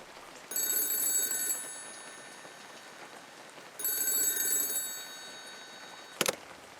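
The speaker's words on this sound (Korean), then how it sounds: "그리고 그날 밤 역시나 비슷한 시간대에 똑같이 전화가 울렸답니다." An old landline telephone at a military guard post rings at night in two long electronic trills separated by a pause, fairly faint over soft rain-like hiss, followed by a brief click.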